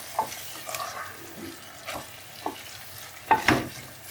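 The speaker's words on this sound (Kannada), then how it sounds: "ಫ್ರೈ ಆಗಲಿ ಒಟ್ಟು." Ginger-garlic paste fries in a pan with a soft background sizzle. Scattered spatula scrapes and taps come at irregular gaps, a stronger cluster near the end, all quiet and close with no speech.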